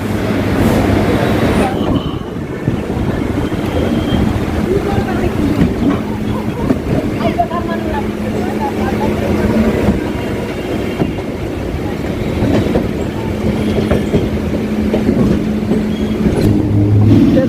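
A Sealdah to BBD Bag suburban train runs steadily, a loud continuous rumble with rhythmic wheel clatter on the rails heard from inside the carriage, with a faint voice in the background.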